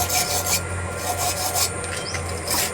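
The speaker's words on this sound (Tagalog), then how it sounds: "Mahinayan pang lihang yan." Sandpaper rubs back and forth over a freshly welded metal joint on a homemade DIY chopping block, a steady close rasping scrape in repeated strokes with a low hum beneath.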